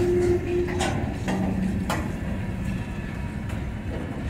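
A passing freight train of hopper cars rumbles steadily, with rhythmic clicks and clanks of rail cars rolling by and a faint squeal early on.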